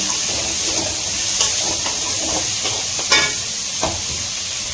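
Vegetables for a vegetarian meal are sautéed in a pan, with a light frying hiss and irregular stirring scrapes and soft clicks of a spoon, close and moderately loud, with no voices.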